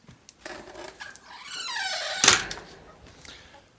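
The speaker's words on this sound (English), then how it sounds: "left the chicken coop door open" A chicken coop door on a homestead swings open with a drawn-out creaking squeal that ends in a loud wooden thunk, heard up close in a quiet barn.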